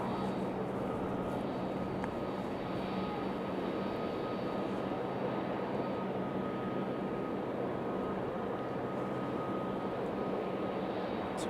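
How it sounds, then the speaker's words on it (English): A Southwest Boeing 737 MAX 8 airliner at Raleigh-Durham airport, its engines roaring as a steady, continuous broadband rumble at moderate distance, without voices. "is headed back to Nashville on the 737 MAX 8"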